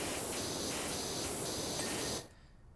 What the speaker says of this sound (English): Back over to the 15-degree spray and